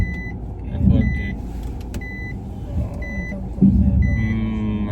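A car manoeuvring while parking: a low engine rumble with swells of revving, punctuated by a few short, repeated electronic beeps.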